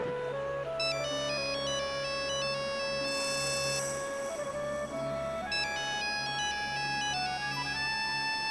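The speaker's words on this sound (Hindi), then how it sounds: "घंटी ही कहीं बज रही है।" A melodic electronic phone ringtone plays continuously, bright repeating notes over a low steady hum, fairly loud and alone.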